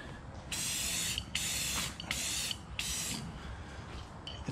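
Spray paint hisses onto a metal filing cabinet in four separate bursts of about half a second to a second each, with short quiet gaps between passes, close and fairly loud.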